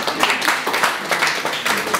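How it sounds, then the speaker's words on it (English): An audience at a folk music gig in Germany gives a round of applause for the sound man, a brief, steady burst of many hands clapping close by, with no talk over it. "Let's have a round of applause for the sound man."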